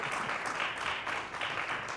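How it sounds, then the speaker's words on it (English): Audience applause greeting a firefighters team captain at a quiz show, a steady wash of many hands clapping at moderate distance, fairly faint and continuous for two seconds. "Applause, that was the cue."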